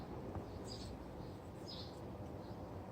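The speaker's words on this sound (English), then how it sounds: "And the birds chirping." Birds chirp in a garden as a few faint, brief high tweets over a quiet bed of rushing wind and distant car noise.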